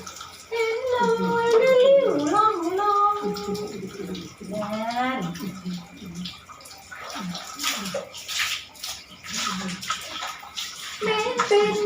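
Water splashes and pours as an elderly grandmother bathes, with intermittent sloshing heard mostly in the latter part. A voice talks or sings loudly throughout.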